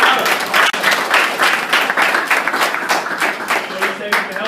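Audience applause and clapping fill a school presentation, a dense, steady patter of many hands that runs for several seconds with a brief dip early on.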